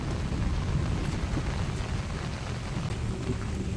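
Rain falling in a forest, a dense, steady roar of downpour with low rumbling, heard alone throughout.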